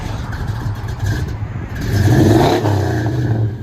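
A 1981 GMC Caballero V8 with true dual exhaust and long-tube headers revs in park, its loud, close engine climbing through rising, surging throttle blips with a deep exhaust rumble and no talk.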